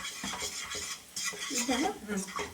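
A spoon scrapes and clinks against a pan while Mysore pak mixture is stirred in hot oil, giving close, rhythmic metallic strokes with a soft sizzle beneath.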